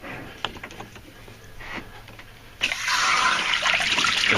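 A garden hose runs water into a boat's engine water intake during winterizing of a Sea Ray boat, starting as faint trickles and splashes, then swelling at once into a loud, steady rush of pouring water.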